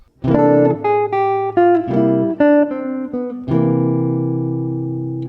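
A dominant jazz line on guitar: a brisk run of picked notes for about three seconds, then a held chord that sustains and slowly decays, close and solo.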